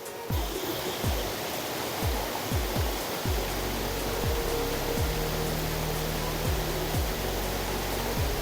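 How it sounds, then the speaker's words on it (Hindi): Loud, continuous rushing water roars as a steady broadband wash in a forest near Devalsari, Uttarakhand, with occasional low thumps and hums underneath. "ये देखो आपको शोर आ रहा है पानी का"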